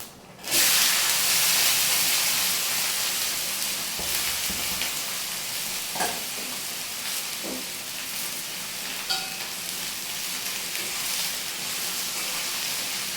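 Soaked bitter gourd frying in a hot pan, a steady loud sizzle starting abruptly and continuing throughout, with occasional stirring clicks and scrapes and no talking.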